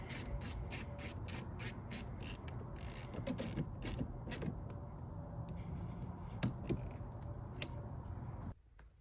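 Ratcheting wrench clicks rapidly while tightening bolts during a digital gauge cluster install on a Jeep JK, several quick bursts of mechanical ticking followed by scattered single clicks, close and fairly quiet.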